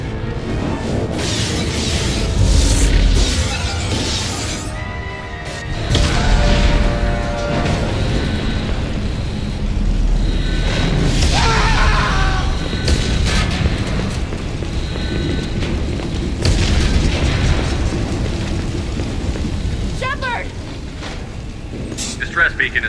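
Starship explosions and hull breaches in the video game Mass Effect 2, with loud rumbling blasts and crashing debris under urgent shouted voices and alarms, sustained throughout with heavier bursts.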